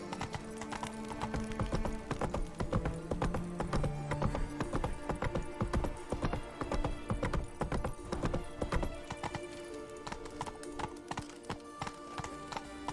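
Geralt's horse Roach gallops in The Witcher 3: Wild Hunt, rapid rhythmic hoofbeats pounding close and loud throughout, with a brief whinny early on and game music beneath.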